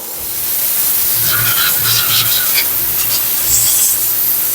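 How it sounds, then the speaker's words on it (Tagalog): A steady rushing hiss of blown air dries a flood-soaked refrigerator inverter board, with light scraping and rubbing noises mixed in. "Pabugahan natin siya ng hangin."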